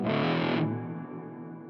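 Electric guitar played through a Recovery Effects Gallows in the Morning double overdrive and reverb pedal: a loud distorted chord rings out, then decays into a long, washy reverb tail with no talking.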